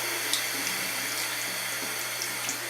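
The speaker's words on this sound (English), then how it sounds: "So we've got our mug here, our cup of hot water. We're going to get a little bit more in it." Hot water running steadily from a tap into a shaving mug, a continuous close splashing stream with a few faint clinks, no voices.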